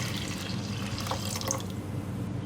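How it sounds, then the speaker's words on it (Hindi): Two cups of water pour into dal in a cooking pot as a steady, close splashing and trickling stream that lasts throughout and fades slightly toward the end. "2 कप पानी डालूंगी इसमें।"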